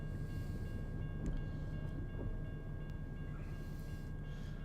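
Amtrak passenger train rolling past in American Truck Simulator, a steady low rumble of rail cars with faint clatter and a few soft clicks, continuous and moderately distant throughout.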